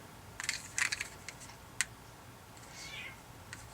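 A house cat meows a few times indoors, short bright calls near the mic at the start and a longer one toward the end, over a quiet room with no talking.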